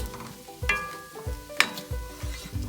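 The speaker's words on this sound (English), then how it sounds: "I'm gonna add that, and I'm gonna give it a good stir." Paneer tikka masala with sugar being stirred in a pan, a spoon scraping in a steady rhythm of strokes over a soft sizzle, with one sharp clink of utensil on metal partway through.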